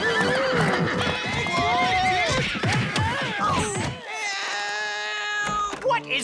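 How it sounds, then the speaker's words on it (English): Cartoon horses neigh and whinny loudly while hooves clip-clop, several high wavering calls layered over close hoofbeats, then a brief drawn-out whinny near the end. "And why are horses and knights in my backyard?"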